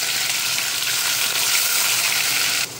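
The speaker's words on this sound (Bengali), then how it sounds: "এই যে গ্রেট করে রাখা পেঁয়াজটা দিয়ে দিচ্ছি।" Grated onion hits hot oil in a wok with a loud, dense hiss of frying that holds steady for nearly three seconds, then drops slightly in level near the end.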